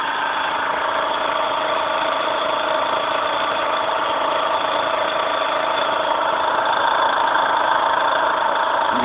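A Newman motor runs steadily and loudly throughout, a constant whirring hum with a continuous high-pitched whine and no pauses or speech.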